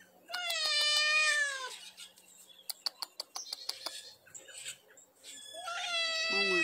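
An angry cat lets out long, wavering caterwauling meows up close, followed by a run of sharp clicks and short sounds, then another drawn-out yowl at the end.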